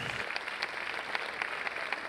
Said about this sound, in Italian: Un applauso alla nostra fantastica Sanremo Junior Orchestra